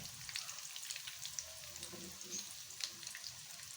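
Vegetable and turai kebab patties fry in a pan with a soft, steady sizzle and scattered small pops and crackles, close but quiet, with no talking over it.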